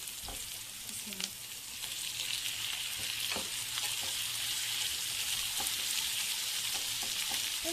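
Onions and mushrooms sizzling in a pan, lightly salted and caramelizing, with a steady hiss throughout and occasional scrape and tap of a utensil stirring them.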